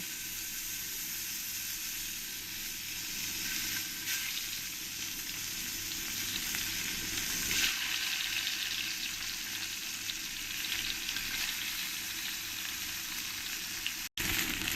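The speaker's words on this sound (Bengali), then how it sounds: "পরের মাছগুলো আমি ভালো করে ভেজে নিয়েছি" Tilapia fish frying in oil: a steady, dense sizzle that holds evenly throughout, close by, with no voices over it.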